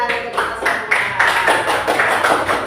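A classroom group claps together in several rhythmic bursts of applause, close and fairly loud, with voices mixed in.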